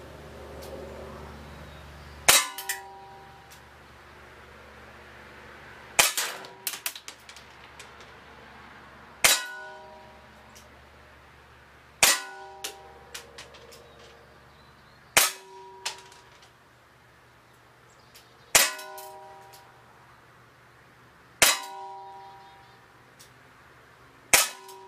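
Crosman C41 air pistol fired at a target from about 20 feet, seven sharp cracking shots spaced roughly three seconds apart, each with a bright metallic report and brief ringing decay, over a quiet outdoor background.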